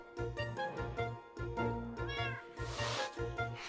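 A Minecraft cat meows repeatedly in quick, evenly spaced pairs, loud and close, with a brief noisy burst partway through.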